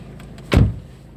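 A car's driver door is eased slightly open while the engine idles, giving a single sharp latch-and-door thud over a low, steady engine hum.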